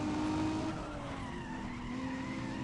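A car skids under the handbrake in the racing game Need for Speed ProStreet, tires squealing in a long sliding whine over the engine's drone, steady and fairly close.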